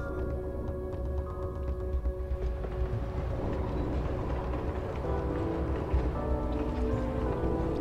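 Rumbling, clattering train noise from the Phantom Train boss fight in Final Fantasy XIV, a steady dense roar with rhythmic rail clatter and layered tones running continuously without pause.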